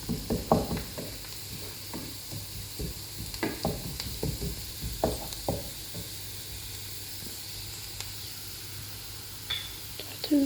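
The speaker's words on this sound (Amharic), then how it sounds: "በርበሬውን ጥብስ እናደርጋለን።" A spoonful of berbere spice fries in a pan, giving a soft steady sizzle broken by scraping, stirring knocks throughout, fairly close and quiet.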